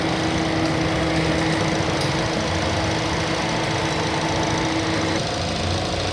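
A Mazda 2 engine with worn engine mounts runs with strong vibration, giving a loud, steady, close mechanical drone with a rough, buzzing hum and no talking.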